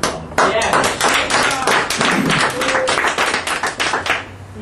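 A crowd at a supporters' gathering for Supervisor Mark Ridley-Thomas breaks into loud, close applause, with sharp individual claps that taper off near the end.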